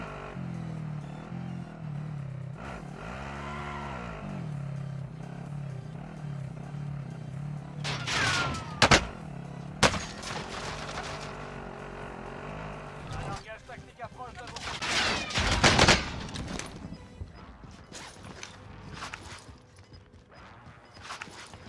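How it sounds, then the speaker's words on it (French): Gunfire in the battle royale shooter Warzone, a scattered series of sharp shots and bursts that stand out through a busy game mix with music and effects, loudest near the middle and again toward the end. "Je pense que le mec il me tire avec des balles violettes"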